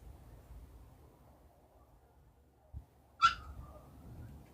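A pet bird lets out a single sharp, piercing squawk after a quiet stretch and a soft thump, with a low household background.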